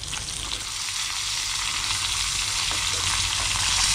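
Fish sizzles loudly in hot oil in a pan, a dense, continuous frying crackle heard up close that builds slightly over the few seconds, with no talking.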